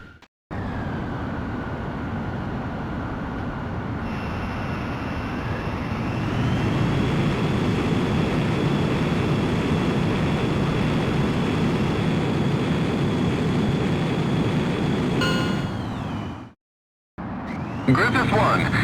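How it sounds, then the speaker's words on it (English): An F-14D Super Tomcat jet in the game Ace Combat X spools up for takeoff, a loud steady engine roar with a rising whine that swells midway, holds, then cuts to silence before resuming. "you are cleared for takeoff."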